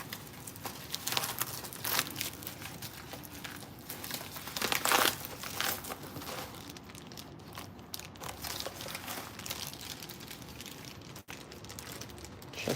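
A paper envelope being opened by hand, with close, crisp crinkling and tearing bursts that come in uneven rustling waves, quiet and without talk.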